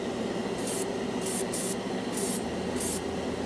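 Short hissing bursts of a cheap Harbor Freight airbrush spraying scale-model paint repeat four or five times over a steady background hum, each lasting a fraction of a second.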